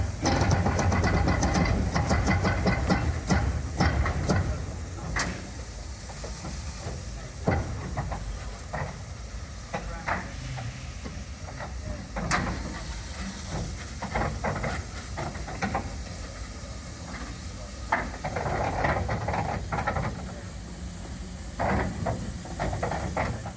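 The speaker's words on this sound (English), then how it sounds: "Outside, locomotives started to move themselves around" Steam locomotives moving around outdoors at a railway gala, with loud hissing steam at first, then clanking, knocks and scattered mechanical bangs over a busy background rumble.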